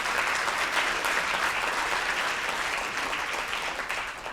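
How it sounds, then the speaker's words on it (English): An audience at the NAACP Freedom Gala applauds the commissioner, with steady, dense clapping from many hands filling the room throughout and easing slightly toward the end. "So please give our commissioner one more round of applause."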